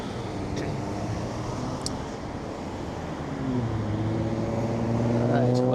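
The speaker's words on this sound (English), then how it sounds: "now we sit and we wait for the traffic to get by." Cars and other vehicles pass on a busy city street, their engines and tyres making a steady roar that swells as a vehicle draws near toward the end.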